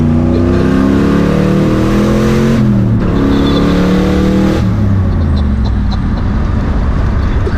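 A turbocharged 351 drift car engine revs hard and loud at close range, its roaring note climbing and dropping through several sustained bursts with a brief lull in the middle, the car held right up near the listener.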